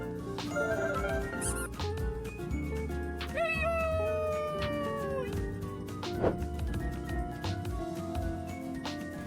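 A cartoonish cat meows a few times over steady, busy children's background music.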